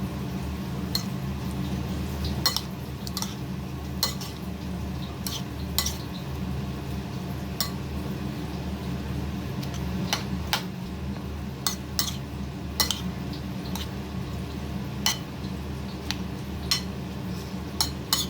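A utensil stirring food in a pot, with repeated metallic clinks and scrapes at an irregular pace over a steady low background hum, close and moderately loud.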